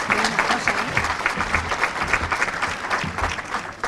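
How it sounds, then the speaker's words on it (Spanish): An audience at an awards lunch bursts into sustained applause, dense clapping filling the room steadily for several seconds with no one speaking over it. "Aplausos merecidos para Mariana."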